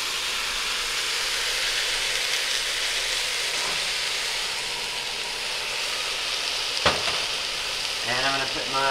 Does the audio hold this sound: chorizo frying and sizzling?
yes